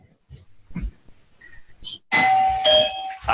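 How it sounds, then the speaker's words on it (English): A doorbell rings with a bright electronic chime partway through, following some faint shuffling and soft noises, then sustains ringing tones to the end. "The doorbell rang. Did you hear that?"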